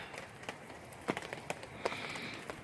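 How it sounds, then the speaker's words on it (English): Rain falling on a campsite and dripping off a roof, soft irregular patter with scattered sharper drops, faint and close, without talk. "if you look carefully, you can see the rain coming down. You can see it dripping off the roof here."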